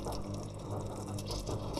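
Boiled water pouring from a kettle, a steady close gurgling stream with splashing and bubbling that rises and falls over a couple of seconds, alone without talk.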